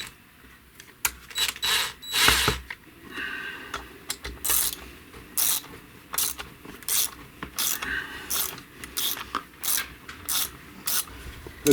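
Bolts are run in on a Stihl MS 271 chainsaw engine with a hand ratchet, giving a string of quick clicking bursts in an uneven rhythm, close and fairly loud, with no talking.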